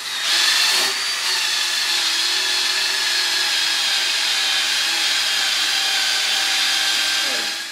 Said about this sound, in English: going to take this wire wheel on the hand drill and run it up and down the wood